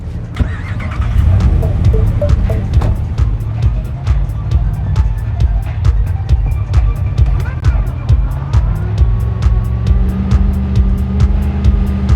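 Car engine rumbling steadily while driving in the video game Cyberpunk 2077, a low continuous drone with shifting pitch, accompanied by sharp ticking clicks and faint game sounds throughout.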